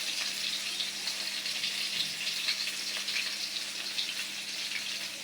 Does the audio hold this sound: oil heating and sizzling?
yes